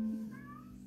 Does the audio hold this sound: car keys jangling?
no